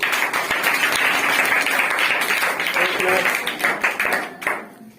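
A group of children and adults clapping for a child, a dense, steady round of applause close by that fades out near the end, with voices mixed in.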